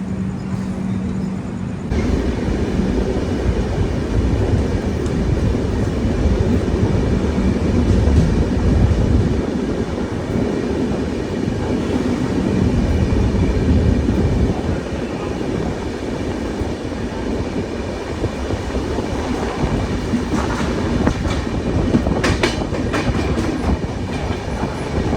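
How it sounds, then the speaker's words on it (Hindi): A passing train runs on rails seen from the Mumbai Kochuveli Garib Rath Express, a loud steady rumble with rhythmic clickety-clack of wheels over joints throughout. "ज़बरदस्त ट्रेन दिख गई भाई"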